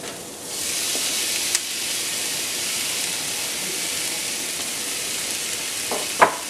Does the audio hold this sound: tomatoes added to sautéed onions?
yes